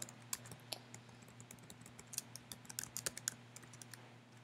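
Code being typed on a computer keyboard, a quiet run of quick irregular key clicks with small bursts and pauses, close and alone with no talk.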